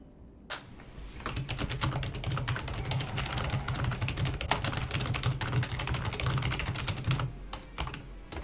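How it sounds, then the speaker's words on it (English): Rapid, steady typing on a computer keyboard during a typing test, dense continuous key clatter close up for several seconds with a low hum underneath. "Typing test. How many words can you do?"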